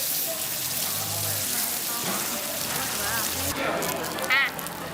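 Butter and oil sizzle and spit in a hot pan, a steady close hiss with bubbling pops while someone talks over it.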